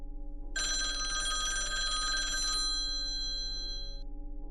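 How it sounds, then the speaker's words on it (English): A phone rings with a bright electronic tone for a few seconds, close and clear over a steady low hum, then fades out. "I woke up to the sound of my phone ringing again"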